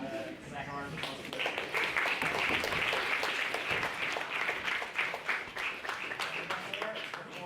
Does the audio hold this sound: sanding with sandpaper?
no